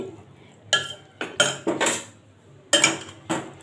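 A spoon clatters and scrapes against a pot while black-eyed pea chaat is mixed, giving a few sharp metallic knocks in two clusters with quiet gaps between, close and fairly clear.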